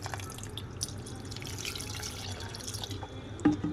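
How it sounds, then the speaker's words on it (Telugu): Water trickles and drips into a pot of mashed dal, quiet and close, with a brief splashing knock near the end. "వాటర్ వేసుకోవాలి."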